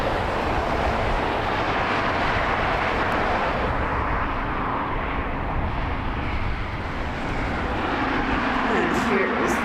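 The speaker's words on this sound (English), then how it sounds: "And here is the Delta taxiing." A Delta airliner taxis at Las Vegas airport, its jet engines producing a steady, loud, broad roar heard from an outdoor viewing area, with someone talking briefly near the end.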